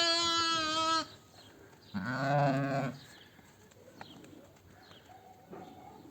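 Two loud, drawn-out bleats from nearby sheep and recently born lambs, one after another with a gap between, followed by quieter farmyard noises and faint distant calls.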